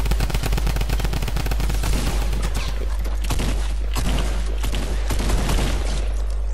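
Dense rapid gunfire in a battle royale video game, a continuous loud barrage of overlapping shots with no pauses, heard alone.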